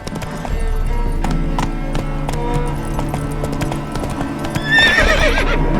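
Hooves clop in a steady rhythm, then a spooked horse lets out a loud, shrill whinny near the end, in the video game The Witcher 3.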